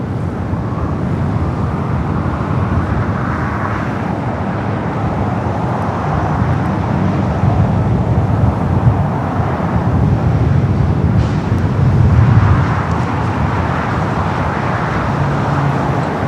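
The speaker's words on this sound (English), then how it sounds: "Air Premia, the Dreamliner coming in from Seoul, next arrival." Air Premia Boeing 787 Dreamliner arriving at Los Angeles International Airport from Seoul, a steady broadband jet roar with a low rumble that swells slightly toward the middle, heard at a distance against continuous airport and traffic noise.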